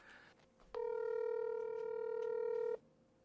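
A telephone tone from a phone being used to place a call: one steady, loud tone with no break, held for about two seconds and then cut off, leaving a quiet background.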